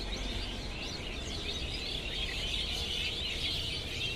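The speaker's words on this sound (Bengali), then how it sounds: "কত সুন্দর দেখলেন পাখিদের কিচিরমিচির আওয়াজ।" Dense, continuous chirping of many small birds, a steady chorus filling the air at moderate distance.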